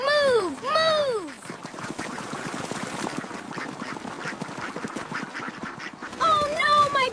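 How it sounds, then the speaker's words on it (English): Ducks quack loudly in bursts near a pond, clustered at the start and end with a continuous noisy rustle of activity between them. "They're so noisy. Go to the pond, ducks."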